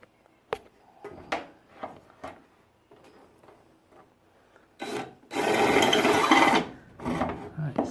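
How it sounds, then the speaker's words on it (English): Scattered scrapes and taps give way to a loud, close, continuous grinding burst of a drill biting through a metal roof gutter, lasting a couple of seconds. "I'm going to drill through this hole."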